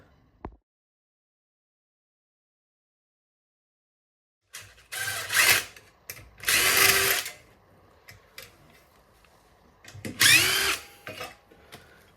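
Cordless power drill driving screws into an external dot-and-dab plasterboard wall while fitting a rail bracket, with three loud close whirring bursts separated by pauses, plus faint handling clicks.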